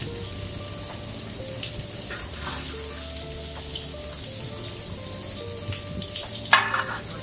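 Spinach sizzles in a pan of olive oil over high heat for scrambled eggs, a steady frying hiss with occasional stirring clatter and one sharp clink near the end, no talking.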